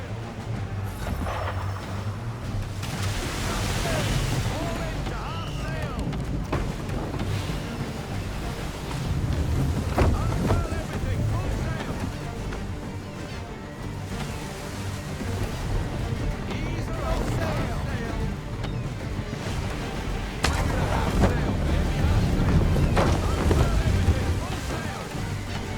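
A sailing ship running at full sail in Assassin's Creed 3: steady rushing wind and water wash beneath the hull, continuous and moderately loud, with occasional creaks and surges, and voices speaking over it at times.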